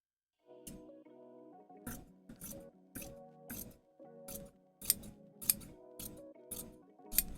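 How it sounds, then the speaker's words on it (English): Scissors make a rough cut through puppet fabric, about a dozen crisp snips in an uneven rhythm, close and fairly quiet, with a faint hum between cuts. "we're just gonna do a rough cut, get it separated"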